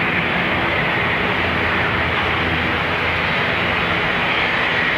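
ATR turboprop aircraft going around at Dublin Airport instead of landing, a loud, continuous engine roar with broad hissing noise, steady and close throughout with no talk.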